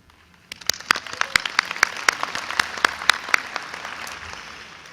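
A graduation ceremony audience practises applause: scattered sharp claps start after a brief quiet moment and quickly swell into dense, sustained clapping from a large crowd, loud and continuous to the end.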